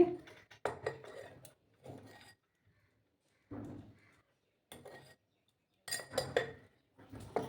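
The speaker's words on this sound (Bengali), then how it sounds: "প্রথমে শুকনো উপকরণগুলো একটু মিক্স করে নিচ্ছি আমি" A spoon mixes dry rice flour, turmeric, poppy seeds and salt in a bowl, making quiet, close clinks and scrapes in short irregular bursts separated by brief silences.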